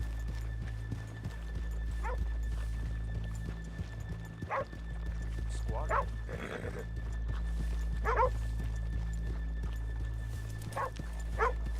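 Horse hooves clip-clop steadily in Red Dead Redemption 2 gameplay under a constant low hum, with a few brief bursts of noise; a voice speaks briefly.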